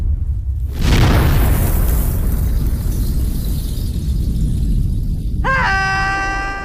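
A fuel tank bursts with a loud boom and a sustained roaring rush that fills the scene for several seconds, then fades toward a steady rumble as a high, wavering tone rises near the end.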